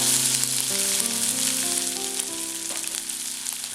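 Whole spices, including torn cinnamon, fry in hot oil with crushed ginger-garlic paste for a chicken curry. The sizzle is loud and steady, with sustained musical tones playing underneath.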